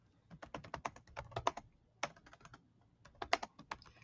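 Rapid keystrokes clatter on a computer keyboard in irregular bursts with brief pauses, close and fairly crisp, with no talking over them.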